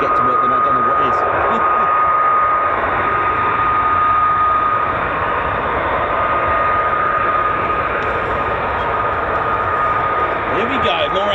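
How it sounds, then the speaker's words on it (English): F-35 fighter jets pass over RAF Lakenheath as a loud, continuous broadband roar that holds steady throughout, close and dominant with no voices. "Here we go, more F-35s."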